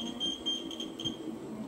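Rapid high electronic beeping from an IPS i5 electric unicycle's speed alarm, a quick repeating series of faint-to-moderate tones over light background noise.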